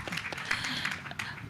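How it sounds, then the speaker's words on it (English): Steady applause from a crowd, a dense wash of clapping holding at an even level for a moment. "A hand clap for Peter."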